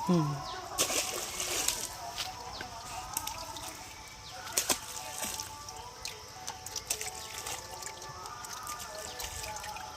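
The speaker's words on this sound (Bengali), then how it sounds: "এখন দেখো মাছগুলোকে সব ছাড়ছে এখানে" Live fish are let go into a village pond in the Sundarbans, with scattered splashes and drips of water. Outdoor background noise runs throughout, and there are a few louder bursts of splashing.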